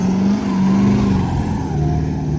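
Camper van in 4 low driving onto beach sand, with traction control off: a steady, loud engine drone with a low humming tone that rises slightly, close and continuous throughout.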